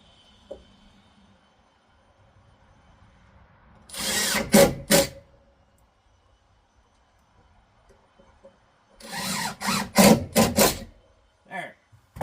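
A power drill drives screws to mount clothesline brackets, whirring in two loud bursts of about a second each, the second broken into several short pulses, with quiet pauses between them.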